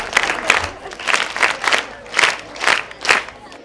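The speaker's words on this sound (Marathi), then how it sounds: "आपण एकदा जोरदार टाळ्या वाजवून त्यांचे आभार आणि अभिनंदन करणार आहोत." Audience applause at a school education society's centenary career fair in Nashik, rising in several bursts of clapping and cheering that swell and fade in waves over a few seconds.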